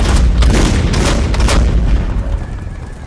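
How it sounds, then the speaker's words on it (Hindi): Heavy cannon fire aimed at a palace: loud booming blasts with sharp cracks at intervals, one after another, then a rumbling tail that fades slowly. "जनरल आउटरम के आदेश पर तोपें दागी गई"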